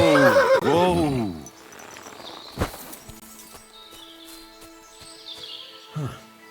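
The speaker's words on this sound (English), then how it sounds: "A horse? What's it doing here in the woods?" A horse in the woods of Kingdom Come Deliverance II gives one loud, close whinny that opens the scene and falls away, then quieter game ambience follows with a brief thump and a faint snort near the end.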